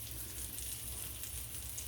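A patty melt with pepper jack cheese fries and browns in a pan, giving a steady, close, continuous sizzle with no voices.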